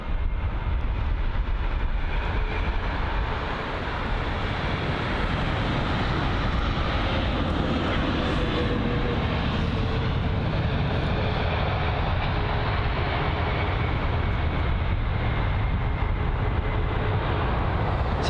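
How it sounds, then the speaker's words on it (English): Boeing 787 landing at London Heathrow, heard as a steady, continuous broadband roar of jet noise holding at constant loudness throughout, with no talk over it. "Let's see if this 787 will butter the landing at London Heathrow this afternoon."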